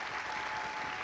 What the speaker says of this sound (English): Let's give Ken Buck a round of applause here